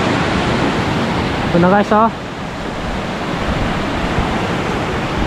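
Strong typhoon wind rushes by the water in a steady, loud roar of broadband noise, with someone briefly talking over it.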